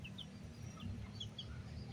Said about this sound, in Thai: ลูกไก่